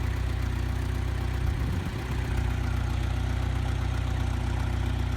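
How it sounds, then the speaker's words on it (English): A tractor engine runs steadily up close with a low, even rumble and a brief dip in the middle, with no talking. "Now I gotta reposition the tractor"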